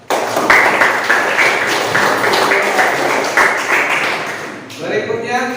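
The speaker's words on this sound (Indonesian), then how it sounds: "Kita kasih aplaus." A classroom audience claps in a steady burst of applause after a group's teaching presentation, sustained for several seconds before fading, then a voice begins speaking.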